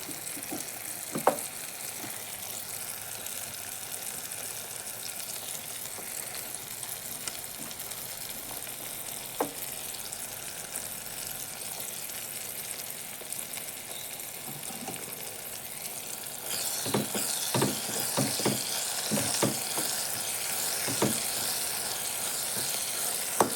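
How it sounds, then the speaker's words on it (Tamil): Dried manathakkali berries fry in oil with a soft, continuous sizzle, scattered pops and crackles breaking through, growing louder and busier toward the end. "நம்ம மணத்தக்காளி காய் வத்தல் சேர்த்துக்கலாம் எண்ணெயிலேயே கொஞ்சம் வணங்கி வரட்டும்"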